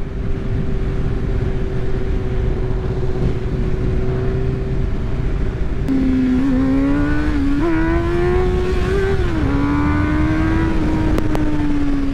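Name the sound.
four-cylinder sport motorcycle riding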